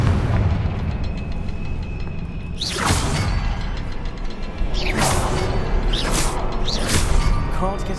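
Confringo spell blasts in the Hogwarts Legacy video game, several loud explosive whooshes with booms in quick succession over constant rumbling battle noise.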